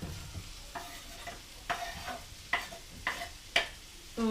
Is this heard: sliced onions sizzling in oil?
yes